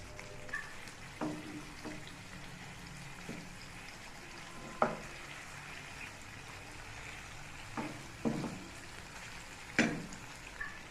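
Fish pieces frying in a pan just after being turned give a faint, continuous low sizzle, broken by scattered sharp pops and clinks at irregular intervals.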